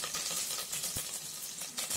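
Sliced big onions sizzle in hot oil while being tempered for sambar, a steady close crackling hiss with small pops throughout.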